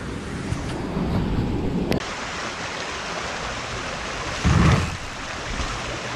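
High, fast creek water pouring over a dam after heavy flow, a loud steady roar of rushing water with a brief louder surge near the end, no talking.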